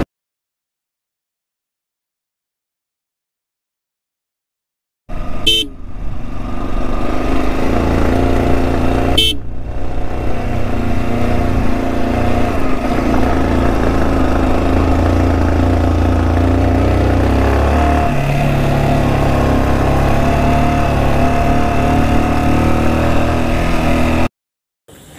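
A motorcycle on a mountain road toward Darjeeling climbs uphill in first gear, its engine a steady, loud drone. It begins after five seconds of silence, runs with a brief horn-like burst early on, then cuts off abruptly.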